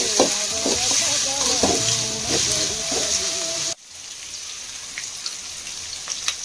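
Vegetables and rice fry loudly for fried rice, a dense close sizzle with rhythmic stirring scrapes and clinks that suddenly drops to a quieter, softer crackle partway through.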